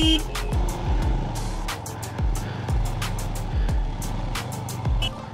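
Traffic on the Leh Manali highway stuck in a jam, with car and truck engines idling and revving close by, repeated low rumbling surges and horn-like tones, and faint voices in the background.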